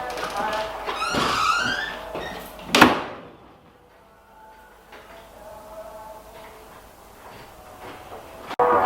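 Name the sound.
Victorian Railways heritage train carriage doors being shut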